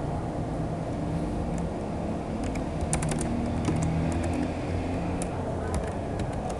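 Keys clatter in quick, uneven bursts of light clicks on a computer keyboard, close by, over a low steady background hum.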